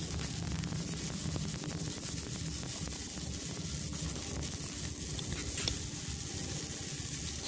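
Chopped eggplant frying with potatoes in a pan gives a steady, even sizzle close by, a continuous crackling hiss with no talking.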